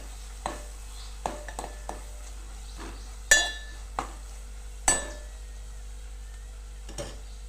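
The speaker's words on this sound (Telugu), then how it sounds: "ఇప్పుడు కొంచెం అల్లం పేస్ట్, కింద అడుగంటకుండా కలుపుకుంటూ ఉండాలండి." Ginger paste stirred in a pan for Telugu-style okra curry, with a spoon scraping and clinking against the metal in scattered taps over a quiet, faint sizzle.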